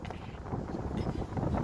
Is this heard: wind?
yes